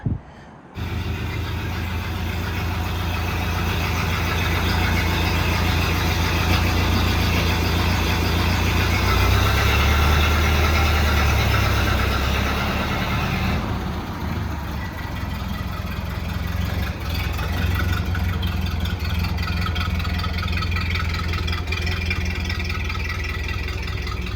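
A 1931 Ford Model A pickup engine starting and then running, a steady low idle rumble that shifts slightly partway through, close and continuous without speech.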